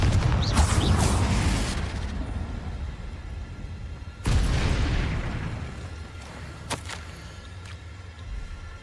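Two loud, rumbling Confringo blasting-spell explosions in a Harry Potter video game, each hitting suddenly and rolling off into a long fading roar, followed by a few lighter pops.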